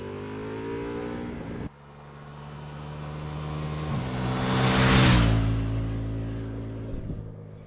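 Ducati Multistrada V4 Rally motorcycle riding on the road, its engine droning steadily with gear changes and a rising, swelling pass of wind and engine noise midway before easing again.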